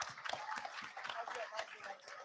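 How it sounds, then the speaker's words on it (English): Audience applause for panelists at a SXSW panel event, a short spell of scattered, fairly faint clapping in a room, with some voices and laughter mixed in. "Can I get a huge round of applause for these people?"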